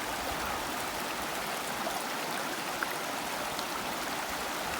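Continuous rushing of a flowing backcountry mountain stream near Banff, Canada, steady and full, with water burbling close by and no talking.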